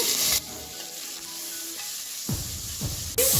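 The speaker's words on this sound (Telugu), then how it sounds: "ఈ సగం వేగిన తర్వాత ఈ టమాటా ముక్కలు కూడా వేసేస్తున్నాను." Tomato pieces frying with onion and green chillies in a pan, a close hissing sizzle with bursts of stirring and a loud sizzle surge near the end, no talk.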